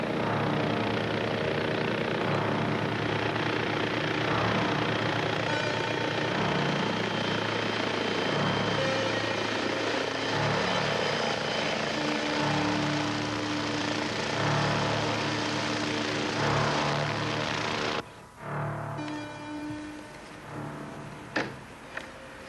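A helicopter arrives, its loud steady rotor and engine drone filling the scene for most of the time before cutting down sharply near the end, leaving quieter irregular noises.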